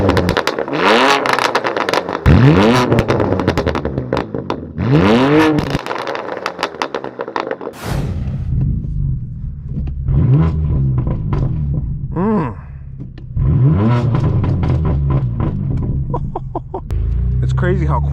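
A straight-piped BMW M4 F82 revs hard in repeated sharp bursts, each climbing and falling with crackling exhaust pops, loud and close, with idle between bursts in a quiet outdoor setting.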